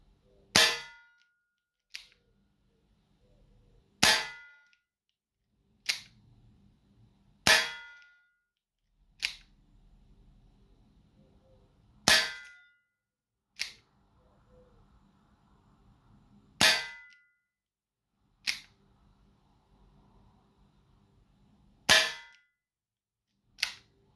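Air pistol firing pellets: about a dozen sharp, loud cracks, each with a short metallic clang, spaced a second or two apart against near silence.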